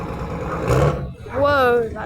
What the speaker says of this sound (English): He's just revving his engine for